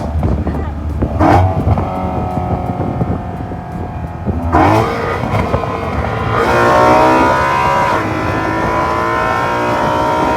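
Modified BMW E93 M3 V8 with a loud intake induction roar while driving, revving up in surges and shifting with rising tones, close and loud under wind noise.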